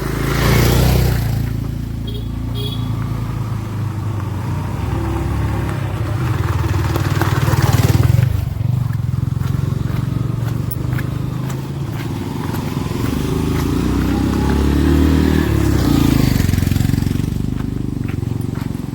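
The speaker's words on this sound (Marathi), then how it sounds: "फक्त बाईक जाऊ शकते आरामात" Motorcycle engines rumble and rev as bikes squeeze past a bus blocking a narrow road in congested traffic near Mahad, a steady low engine drone throughout.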